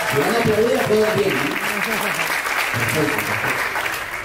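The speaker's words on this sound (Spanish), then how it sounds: "Así que un fuerte aplauso para ellos, por favor." Loud, sustained applause fills an auditorium at a business presentation, with a voice speaking over the clapping for most of it.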